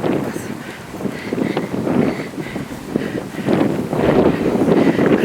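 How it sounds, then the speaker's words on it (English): Gusty wind buffeting the microphone outdoors beside an abandoned club in Swansea, a rough, uneven roar that swells and dips, louder toward the end, with no voices. "It's a bit windy."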